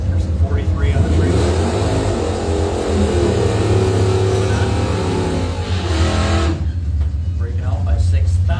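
Drag racing at a season-finale strip event, with an engine roaring loud and steady throughout beneath a track announcer's continuous commentary, cutting off sharply near the end.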